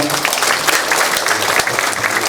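Applause from the audience at a Presbyterian church assembly's candidate policy debate in Jeonju as the general assembly moderator comes forward, dense steady clapping throughout, with faint voices mixed in.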